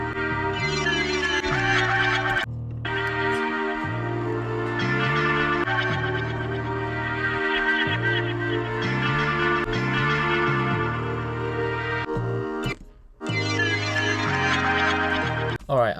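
A bass line with accented notes steps through a repeating pattern beneath a dense, continuous music mix, running loud and steady with a couple of brief drop-outs.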